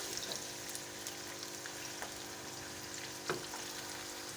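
Two onions fry in a pan toward golden brown, a soft, steady sizzle and crackle with occasional louder pops and a stir, fairly faint and continuous.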